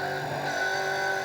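New Zealand V8 touring race cars at Manfeild racing in 2008, a steady sustained engine roar with high whining harmonics, heard continuously at moderate distance without pause.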